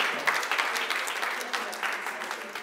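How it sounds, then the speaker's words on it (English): Dense, steady audience applause at a movie premiere, many hands clapping together at even strength for nearly three seconds, with no pause in the sound. "Please, a round of applause for"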